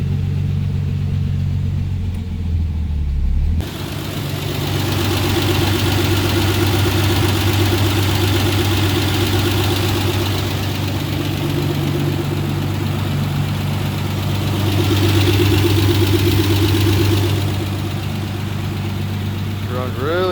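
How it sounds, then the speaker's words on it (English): Steady idling and running of a Plymouth Special Deluxe car engine, a low, smooth mid-pitched rumble held close and loud throughout, with a brief quieter start before the engine note fills in. "Car drives really good."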